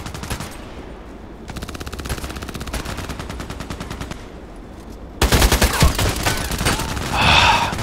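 Rapid automatic fire from an AKMS rifle in the Contract Wars shooter game, several bursts of dense rattling shots in a row that grow louder and closer toward the end, with no talking.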